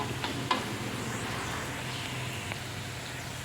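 Pempek fish cakes fry in hot oil in a pan, a steady soft sizzle with a few small pops and clinks, fairly quiet and even throughout.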